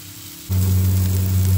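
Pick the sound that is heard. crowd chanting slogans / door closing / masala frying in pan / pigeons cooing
masala frying in pan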